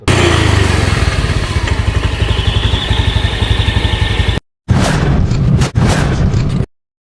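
Honda Beat FI scooter engine running with a rattle from its side transmission cover: loud, close, rapid pulsing idle with a metallic rattle, cutting out briefly, then resuming before stopping.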